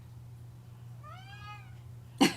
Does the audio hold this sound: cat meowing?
yes